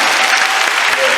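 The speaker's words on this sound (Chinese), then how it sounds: "再用你们最热情的掌声" Brief burst of dense, loud applause from a concert audience at the opening show of Kaohsiung's music centre, steady clapping with crowd noise underneath.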